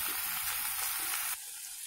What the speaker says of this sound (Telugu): ఇది కొంచెంసేపు అలాగా వేయించుకుందాం